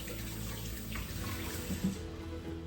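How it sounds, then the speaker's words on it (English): Tap water runs steadily into a sink, a close continuous splashing hiss with no talking. "Rinse my hands again."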